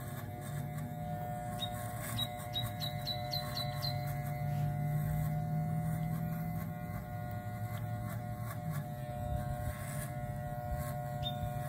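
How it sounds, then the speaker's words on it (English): A Walmart electric hair clipper buzzes steadily and close during a skin fade haircut, a constant droning hum with faint scraping and small clicks over it as it moves through hair. "you grab your Walmart clipper"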